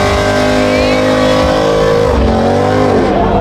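Stage 2 BMW M340i engine revving loudly up close at a South Florida car show, a sustained high-pitched roar with the pitch climbing and shifting toward the end, voices faintly mixed in.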